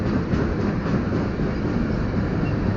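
A BNSF or Montana Rail Link freight train rolls past close by in a steady, continuous rumble and rattle of wagons, with no talk over it.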